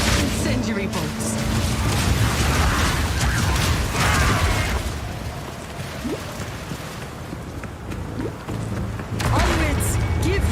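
Incendiary bolts firing in the video game Path of Exile 2: repeated bursts and crackling impacts over a dense, steady wash of combat noise, with a voice speaking at times.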